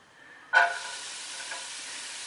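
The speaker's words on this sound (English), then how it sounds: "as soon as I add it, you can hear a sizzling sound." Onions dropped into a hot, oil-free pan over a medium-high flame give a sudden loud sizzle that settles into a steady hiss for the rest of the moment, with no talking.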